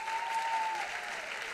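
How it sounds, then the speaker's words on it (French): Audience at a university marketing awards ceremony applauding the organizers, a short, fairly quiet run of steady clapping from a seated crowd, with a faint tone running beneath it. "On peut les applaudir."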